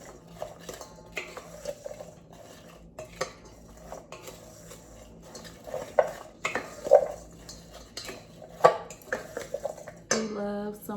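Salmon burger mixture with fresh parsley being mixed by hand in a bowl, with intermittent clinks and scrapes of utensils against the dish, a soft squelchy stirring underneath, and a louder clatter near the end.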